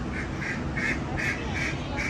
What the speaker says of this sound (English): A different type of ducks.